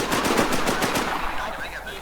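Rapid automatic gunfire in the survival shooter Infestation, a tight burst of close, loud shots fading into a short reverberant tail.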